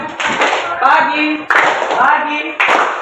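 A classroom of students performing the 'tepuk pagi' clap pattern, short bursts of close rhythmic clapping in groups, mixed with children's voices chanting along.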